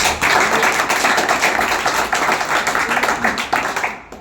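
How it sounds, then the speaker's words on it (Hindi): Students at a hostel promotion class clap loudly and continuously in a dense, steady burst that fades slightly near the end, with a few sharper claps standing out. "तो मैं तो सबसे पहले मुने जी सर के लिए जोरदार ताली होनी चाहिए भाई"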